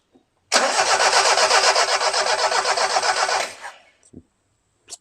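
A 1971 first-generation Toyota Celica TA22 barn-find engine cranks loudly and rhythmically for about three seconds, trying to catch without firing, then cuts off, followed by a couple of faint clicks.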